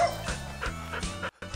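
A dog in Agricultural Simulator 2013 barks in a quick run of sharp, loud yips and woofs close by, several bursts in a row with a brief gap near the end.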